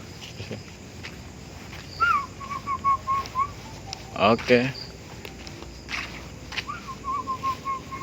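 Short whistled notes come in two bursts, each a quick string of repeated tones, over faint outdoor ambience in a public cemetery, with brief rustling and a spoken word.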